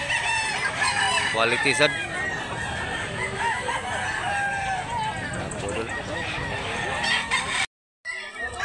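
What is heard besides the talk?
rooster crowing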